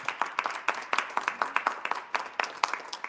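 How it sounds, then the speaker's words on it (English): Audience applause at a keynote panel, a brief burst of many hands clapping in a dense, even patter, loud and close, with no talking over it. "So a round of applause for Scott again."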